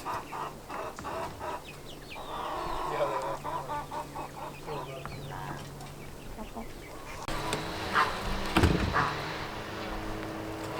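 Several chickens cluck softly nearby outdoors on freshly rototilled dirt, with a voice talking alongside and a burst of clattering noise near the end.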